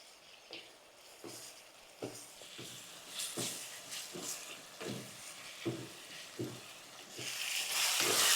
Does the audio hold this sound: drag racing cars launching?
no